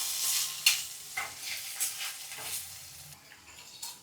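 Lady's fingers (okra) fry in a pan over fairly high heat, a soft hiss with occasional stirring scrapes, faint and close, while someone talks over it.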